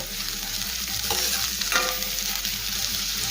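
Capsicum and carrot stir-fry in a pan with a steady, close hiss of sizzling oil, broken by a couple of brief scraping stirs and no voices.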